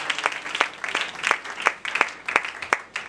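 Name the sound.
congregation applauding in church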